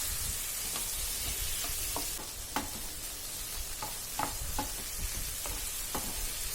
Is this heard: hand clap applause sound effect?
no